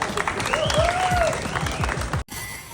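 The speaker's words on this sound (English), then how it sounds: "Yeah, you clap for that." A small group of people claps briefly outdoors, the clapping mixed with cheering voices before cutting off abruptly.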